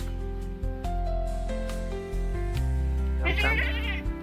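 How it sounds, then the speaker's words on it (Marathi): A large goat bleats close by on a farm, a wavering cry near the end, over a steady background drone with a few soft bumps. "ही मोठी शेळी दिसते"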